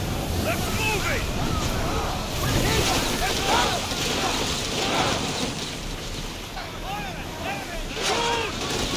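A sailing ship in Assassin's Creed Odyssey surges over open sea, with steady wind and waves rushing around the hull while crew voices shout intermittently over it.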